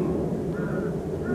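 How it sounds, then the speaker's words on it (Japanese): Seagulls call outdoors, rough hoarse cries rising briefly over a dense low background rumble, moderately close and short. "これカモメのようですね。"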